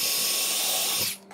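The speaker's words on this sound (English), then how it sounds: "I will drill a pilot hole to make sure that I get into that joist" A power drill bores a pilot hole through flooring into a wooden floor joist, a steady high whine running loud and close for about a second before it stops abruptly.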